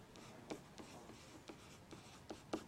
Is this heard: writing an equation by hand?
yes